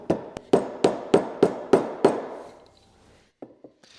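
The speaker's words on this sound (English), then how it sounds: "Now I will get my rubber hammer." A rubber mallet strikes sharply about seven times in an even rhythm, tapping a part into place on an old Volkswagen engine, then a pause and a few lighter taps, close and loud with no talking.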